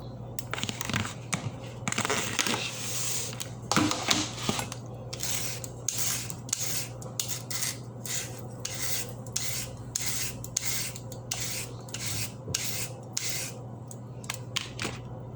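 A knife slices papaya into strips, giving repeated short rasping cuts in a quick, fairly regular rhythm, close but fairly soft over a low steady hum.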